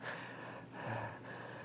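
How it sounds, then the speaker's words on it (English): Short, fairly faint gasping breaths from a person having an anxiety attack and struggling to breathe, two breathy intakes close to the microphone in a quiet room. "Are you having trouble breathing?"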